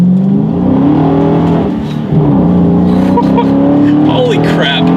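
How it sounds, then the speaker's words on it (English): A 2016 Dodge Charger R/T Scat Pack accelerates hard, its engine note rising steadily through the gears with a brief dip at a shift, loud and close from inside the cabin. "let me do a quick little acceleration test"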